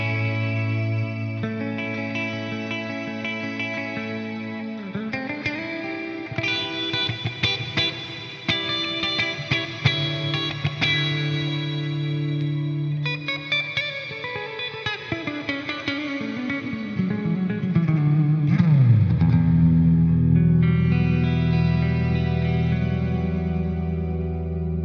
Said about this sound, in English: I'm reviewing the new MIRA compressor pedal by Walrus Audio